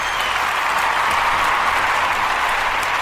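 A small group claps for an artist in a casual indoor setting, a dense, even patter of hand claps held at a constant level for a few seconds, close and without voices.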